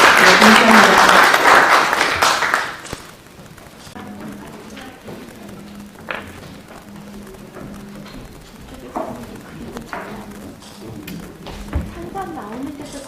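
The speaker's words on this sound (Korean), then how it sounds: "다시 한번 우리 두 분께 큰 박수 보내주시기 바랍니다" Audience applause at an award ceremony at the National Assembly bursts loud for about three seconds, then cuts off, leaving quiet room noise with scattered small sounds.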